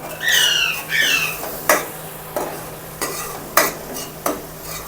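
Tempering spices and green chilies crackle and sizzle in hot oil while a spoon clinks and scrapes against the pan in a few sharp strikes. A squeaky stirring sound opens the clip.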